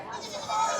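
A goat bleats at the Ranipettai livestock market, one drawn-out nasal cry close to the microphone that rises and grows louder toward the end.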